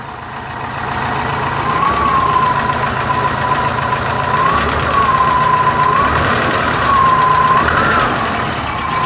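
An engine on 44 IDF carburetors runs at a steady idle with a rough low rumble, close and loud, while a thin whistling tone rises and falls repeatedly above it; no talking.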